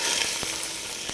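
Diced pork and beef sizzling in a pot for chili, a loud, dense, steady hiss close up, with a couple of brief stirring knocks.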